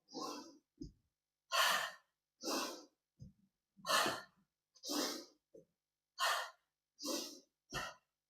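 Breath pushed out during a qigong exercise while tapping the lung points, heard as about ten forceful, breathy exhalations in a steady rhythm with short pauses between them, close and fairly clear.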